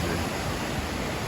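Kuhflucht waterfall near Farchant flowing, a steady broadband rush of falling water heard close and continuous with no voices.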